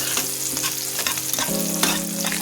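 Cardamom, cinnamon and bay leaves sizzle in mustard oil while a spoon stirs them, producing a brisk crackling fry with repeated scraping strokes and a low hum underneath.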